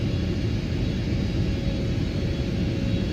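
Turkish Airlines Boeing 777-300ER in flight in a PMDG flight simulator on approach, a steady low cabin rumble of engines and airflow holding even and loud throughout with no talking.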